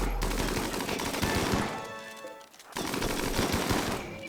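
Bursts of gunfire from the colony-sim game Rimworld, loud and dense, with rapid repeated shots that drop away briefly midway and then resume.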